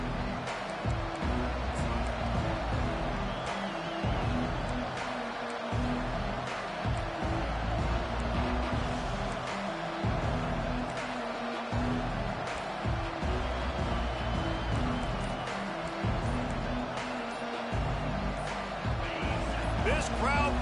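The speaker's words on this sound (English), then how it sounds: "This crowd bringing the energy and noise early." A dense football stadium crowd at a Texas college game, a continuous loud roar with bumps and swells, under a commentator's steady play-by-play talk throughout.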